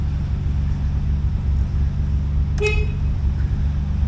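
A 1986 Nissan 300ZX horn, sounded from the steering column button, gives one short honk over a steady low engine idle rumble in the parked car, with no voices.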